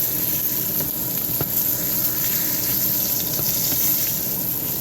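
A steak pan-frying in a hot skillet sizzles steadily and loudly up close, a dense continuous crackle with a few faint clicks, no talking.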